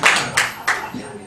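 At a comedy show, a few scattered hand claps ring out from the audience, about four sharp claps spaced unevenly over a second or so, fairly near.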